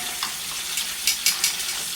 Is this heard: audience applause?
no